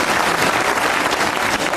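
Studio audience applauding on a comedy music panel show, a short, loud, steady burst of dense clapping heard alone.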